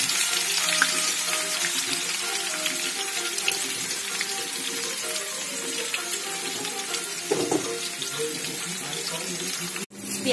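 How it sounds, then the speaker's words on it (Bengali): Chopped onions fry steadily in a pan for chicken biryani, giving a continuous broadband hiss with a few brief clinks and a short cut near the end. "পেঁয়াজটাকে আমাকে ভালোভাবে ভাজতে হবে, একটু লাল লাল করেই ভাজবো।"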